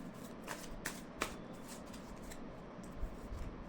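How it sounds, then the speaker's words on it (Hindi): Tarot cards being shuffled and drawn, with soft papery riffles and several sharper card snaps over steady shuffling, close and fairly quiet, no voice. "तो ग्रीन ब्रासलेट जिन्होंने सेलेक्ट किया है उनके लिए मैं कार्ड निकाल रही हूँ।"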